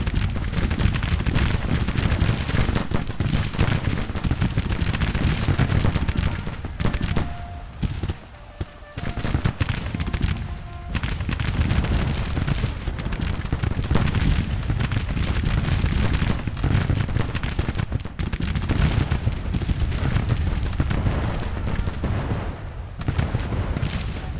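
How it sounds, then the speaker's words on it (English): Rapid musket volleys and cannon fire roll on from a Civil War battle in the strategy game Grand Tactician, a dense, continuous barrage at steady loudness with a brief lull partway through. "Oh yeah, listen to those guns fire. They are firing quick."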